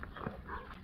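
A dog near cows on a farm gives a single short, faint bark, heard distantly against quiet outdoor ambience.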